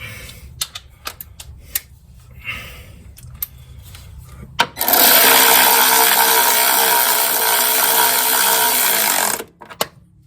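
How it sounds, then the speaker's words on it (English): A 14 mm wrench tightens the front strut bolts on a 2002 Acura TL Type S. A few scattered metallic clinks lead into a loud, sustained rapid ratcheting burst lasting about five seconds, then a couple of final clicks. "let me get my 14. And we'll tighten this up."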